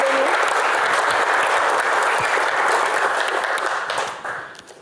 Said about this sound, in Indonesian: tepuk tangan dong buat Benny.